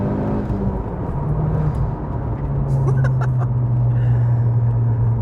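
A Volkswagen Golf MK4 Anniversary hot hatch on the move, heard from inside as a steady engine drone and road rumble, with the engine note rising partway through.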